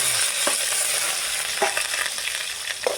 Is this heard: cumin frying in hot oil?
yes